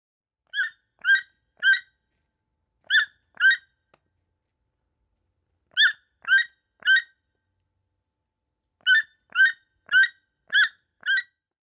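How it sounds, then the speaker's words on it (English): A toucan gives a series of croaking calls, short bursts of two to five notes separated by pauses, clear and alone. "toucan"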